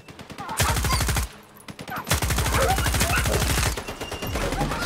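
Automatic gunfire in Stalker 2 Heart of Chornobyl, loud rapid bursts of shots in three long strings separated by short pauses.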